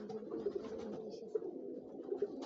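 Pigeons at a pigeon fair cooing repeatedly in low, soft throaty calls, several overlapping birds close by, steady and moderately quiet with no talk.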